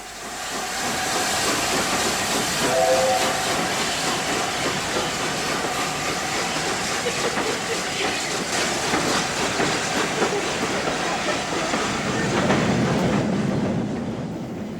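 An LNER steam locomotive pulls away beside the National Railway Museum, giving a steady, loud wash of steam hiss and rolling rail noise throughout, with no clear whistle standing out.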